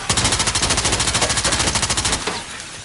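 Sustained automatic gunfire in the VR shooter Firewall Ultra, aimed at windows, a loud close stream of rapid even shots for over two seconds that then stops abruptly.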